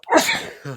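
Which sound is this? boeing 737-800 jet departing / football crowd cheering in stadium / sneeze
sneeze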